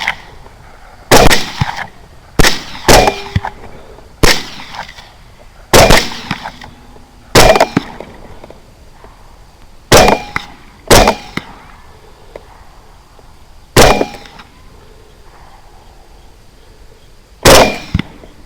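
Gunshots fired at hogs during a night hunt: about a dozen sharp, loud, separate cracks at irregular intervals, each decaying quickly into a quiet background.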